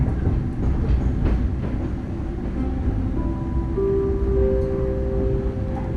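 An Indonesian passenger train from Cirebon to Semarang rumbles steadily along the rails, close and constant, with thin squealing tones rising over the rolling noise.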